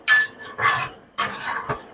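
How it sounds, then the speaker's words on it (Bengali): A spoon scrapes and clinks against a pan while sugar is stirred into thickened milk for kheer sweets, in short loud bursts separated by brief pauses. "চিনিটা দেওয়ার পরে ভালো করে নাড়তে থাকবো"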